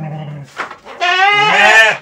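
Sheep bleating in a raised wooden pen on a livestock farm, several loud, wavering calls close by, the longest filling the final second, with a person speaking quietly beneath them.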